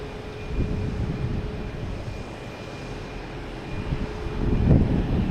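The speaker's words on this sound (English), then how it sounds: "Delta coming in from LaGuardia, E175. Check out that smooth landing." A Delta Embraer E175 regional jet landing at Boston Logan, a steady broad engine roar at middle distance that swells slightly near the end as the aircraft rolls out, with no voices.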